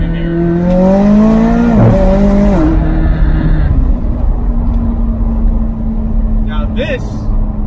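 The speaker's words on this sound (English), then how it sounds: "This is what a turbo car should sound like." A McLaren 600LT's turbocharged engine and exhaust revs hard with a loud, rising then falling note that drops away, followed by a steady drone with a brief high whine near the end.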